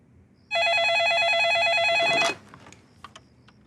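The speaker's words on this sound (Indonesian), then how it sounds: "Aku coba telepon ibuku dulu ya." A telephone rings with a steady electronic warble for under two seconds, loud and close, then cuts off abruptly; faint clicks and a quiet background follow.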